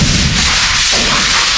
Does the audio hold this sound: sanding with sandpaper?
yes